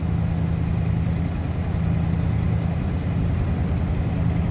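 A 1973 Dodge Charger hardtop, needing tailpipes and a muffler, idles with a steady low exhaust burble close by, the even rumble continuing without any talking.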